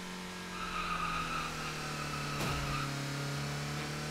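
Engine drone with a tire squeal during drifting and stunts in the video game Driving Simulator, a steady motor hum rising near the middle with a sharp skid burst, loud and close with no talking.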